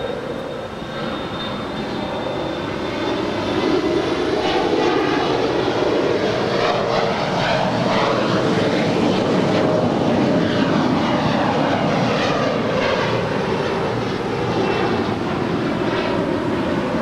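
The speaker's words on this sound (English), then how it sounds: "It's a 737-900ER just landing here on 25 left" An Alaska Airlines Boeing 737-900ER lands on runway 25 left at LAX, its jet engines a sustained broad roar that swells and holds with a fluttering, shifting tone.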